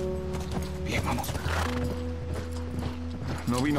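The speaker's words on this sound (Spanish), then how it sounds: "Sobre todo hay que andar a caballo." A horse gallops with rhythmic clip-clop hoofbeats and a whinny in The Last of Us, heard under game music and a voice.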